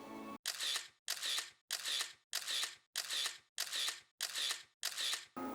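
Camera shutter clicking at a steady pace through a cookbook food photo shoot, eight crisp, evenly spaced shots about two thirds of a second apart, close and clear with no talking.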